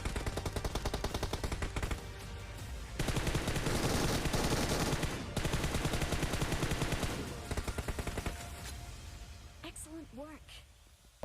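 Gunfire in the mobile game Battlegrounds Mobile India: rapid automatic bursts of rifle fire, loud and close, with brief pauses between volleys and a few isolated shots near the end.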